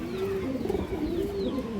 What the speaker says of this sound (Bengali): এটা বেজি কবুতর